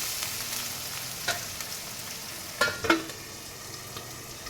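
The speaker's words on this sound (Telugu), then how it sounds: "కొంచెం అల్లం వెల్లుల్లి పేస్ట్ కలిపి ఒక 2 మినిట్స్ అల్లం వెల్లుల్లి పేస్ట్ పచ్చి వాసన పోయేదాకా వేగనివ్వాలి" Ginger garlic paste frying in a pan as part of a drumstick, tomato and egg curry, a steady close hiss with a few sharp crackles and stirring scrapes partway through, with no talking.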